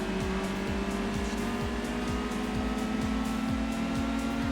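A Peugeot 106 races in Gran Turismo 2, its engine droning steadily with repeated gear-shift sweeps in a regular rhythm, loud and close, with faint tire noise and no talk.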